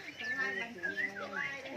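Caged songbirds such as white-rumped shama and fire-colored shamas sing in short, bright whistled phrases with rising and falling notes, faint and close, over a quiet background.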